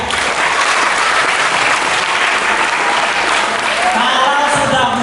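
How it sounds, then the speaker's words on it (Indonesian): Dense, steady applause from a school or community audience at a youth event in Sintang, filling the whole stretch at a constant loud level, with a voice surfacing briefly near the end. "Tuh, tepuk tangan untuk Satria."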